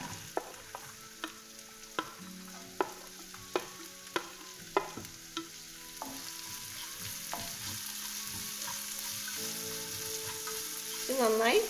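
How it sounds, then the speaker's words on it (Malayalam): Chopped onions sauté in a pan with a steady sizzle, and a spoon taps and scrapes against the metal in a regular rhythm; the frying swells louder toward the end, heard close with no voices. "ഇത് നന്നായി വഴറ്റിയെടുക്കാം"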